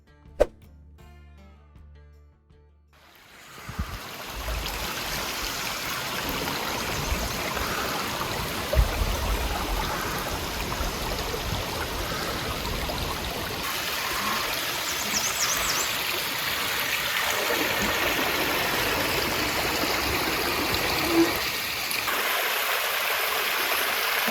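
Steady rushing water of Wyandotte Falls, a small waterfall in Michigan's western Upper Peninsula, broad and constant, rising in after a quiet start and filling the rest of the clip without any voices.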